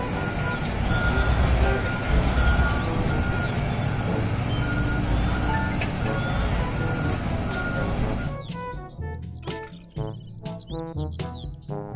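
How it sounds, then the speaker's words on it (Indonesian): Toy mining dump truck with a dense, loud whirring motor noise for about eight seconds, followed by a series of short electronic beeps and chirps pulsing close by, with no talk. "Mobil, truk tambang."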